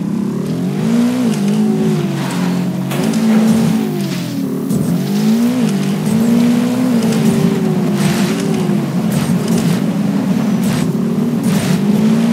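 A motorbike engine in the video game Ghost Recon Wildlands runs loud and steady for the whole stretch, its pitch rising and falling as the rider accelerates and eases off, with no talking.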